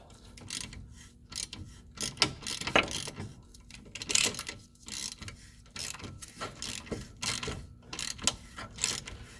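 A socket ratchet cranks loose the front wheel bearing bolt on a 2009 Subaru Forester during hub assembly replacement, giving close, crisp ratcheting clicks in repeated bursts with brief pauses between strokes.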